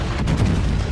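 A heavy shell strikes a battleship in the naval combat game World of Warships, a single deep booming explosion with a rumbling low-end tail filling the short moment, no talk heard.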